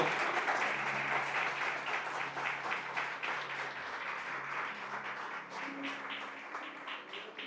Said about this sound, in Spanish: ¿Cuántos pueden darle un fuerte aplauso a nuestro Dios?